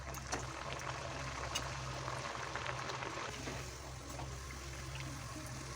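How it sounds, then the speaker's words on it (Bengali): Dhoniya puris deep-frying in hot oil, a steady, fairly quiet bubbling sizzle that holds evenly throughout with no talking. "সবগুলো পুরি একে একে এইভাবে ভেজে নিচ্ছি।"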